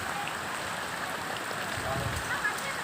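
Steady monsoon rain patters down in a continuous hiss, with soft scattered drops and faint background noise throughout.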